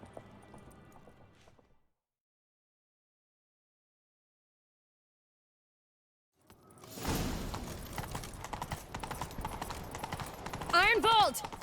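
Rapid clip-clop of a galloping horse in The Witcher 3: Wild Hunt, loud and close, after a stretch of silence, with the horse whinnying near the end.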